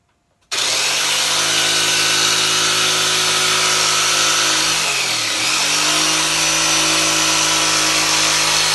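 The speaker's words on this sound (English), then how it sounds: "I think I'll do that with a jigsaw." A jigsaw cuts through wood while a dinette is being fitted, a loud steady buzzing saw that starts abruptly, dips in pitch briefly midway as the blade bogs, then runs on evenly and close.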